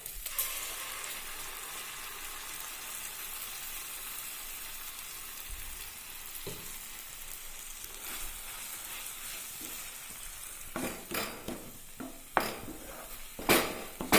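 Ground masala paste frying in a pan for a jackfruit seed roast gives a steady soft sizzle, with scrapes and clinks of a spoon against the pan growing more frequent toward the end; no one speaks.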